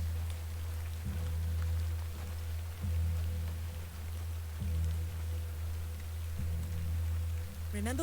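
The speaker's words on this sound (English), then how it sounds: "Let's get out of the rain." Steady rain falls in The Excavation of Hob's Barrow, an even hiss running under a low continuous drone, with faint soft thuds recurring about every two seconds.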